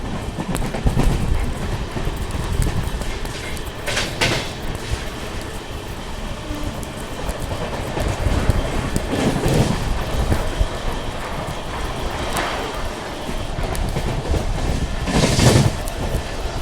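SMVT Bengaluru-Mumbai LTT Weekly Express running alongside and overtaking the Rani Chennamma Express: a steady, loud rolling rumble with rhythmic clickety-clack of wheels over rail joints and occasional louder passing bursts, heard from on board.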